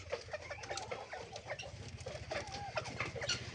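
Chickens of a fancy breed kept for hatching eggs cluck and murmur continuously at close range, with several birds overlapping in a busy, steady chatter.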